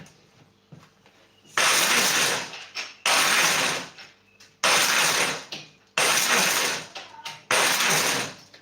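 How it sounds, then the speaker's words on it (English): A blender pulses beans in five short, loud bursts separated by brief near-silent gaps, each pulse a harsh whirring roar. "So now I have used the pulse blending to dislodge some of the bark."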